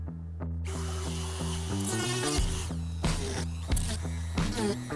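A Dremel rotary tool cuts a 3D printed plastic dashboard part, producing a close, high-pitched motor whine with stepped pitch changes and sharp bursts of grinding as the bit bites into the plastic.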